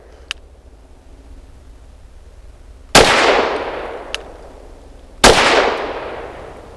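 Two sharp, very loud gunshots from a Kimber R7 Mako Carbon Compact pistol, a couple of seconds apart, each followed by a ringing decay, with a few faint clicks in between.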